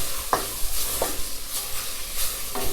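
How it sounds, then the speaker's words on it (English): Sautéing in a pot for a one-pot pasta dish: a constant hiss of frying under three or four distinct scraping stirs of a spoon, close and moderately loud. "I'm just going to allow this to saute for a little bit"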